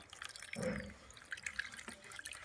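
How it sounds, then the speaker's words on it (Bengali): Plain water is poured gently over a hand into a bucket planted with a lotus, giving a soft splash followed by faint trickles and drips in a quiet setting. "এবার কিন্তু দিয়ে দেব নর্মাল জল।"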